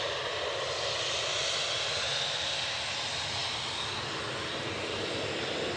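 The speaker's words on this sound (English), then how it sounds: "WestJet on the move." A WestJet jet airliner taxis at Edinburgh Airport, its engines producing a steady, broad roar that holds evenly throughout with no speech over it.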